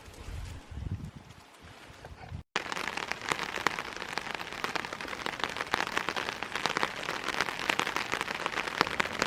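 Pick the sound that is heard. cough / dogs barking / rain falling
rain falling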